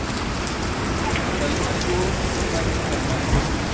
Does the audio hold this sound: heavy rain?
yes